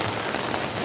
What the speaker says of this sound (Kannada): ಸಖತ್ ಜೋರು ಮಳೆ ಬರ್ತಿದೆ ಇಲ್ಲಂತೂ